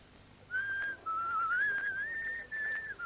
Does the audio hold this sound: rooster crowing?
no